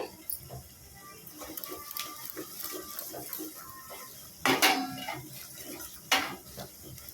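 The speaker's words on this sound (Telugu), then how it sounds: "ఉప్పు సరిపడంత వేసేసి ఒక్కసారి కలుపుకుందాము" A ladle or spoon stirs salted tamarind rasam in a metal pot, with scattered soft clinks and scrapes and a couple of sharper knocks against the pot, close by and fairly quiet.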